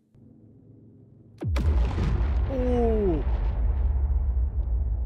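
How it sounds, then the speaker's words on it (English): A bomb explodes in a flight combat video game: a sudden loud, close blast followed by a long rumbling roar that slowly decays, with a voice exclaiming over it. "That's beautiful explosion"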